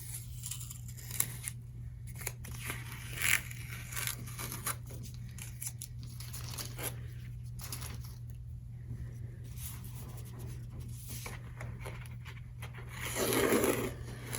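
Masking tape being slowly peeled off watercolor paper, giving scattered soft tearing and crackling bursts over a steady low background hum, with a louder rip near the end.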